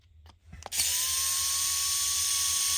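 A rechargeable power tool, used on an RC truck build, whirs up with a steady high-pitched whine that holds on after a couple of brief clicks, sounding thin and strained from a low battery.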